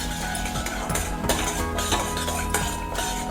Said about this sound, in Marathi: छोट्या चम्मचने याच्यामध्ये 4 चम्मच पुन्हा साखर मी टाकून घेतली